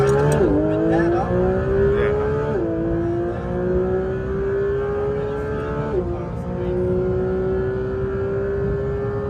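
A Porsche GT4 RS brakes hard from speed, its engine droning loudly from inside the cabin, with sharp rev blips on each of three downshifts before the tone settles lower.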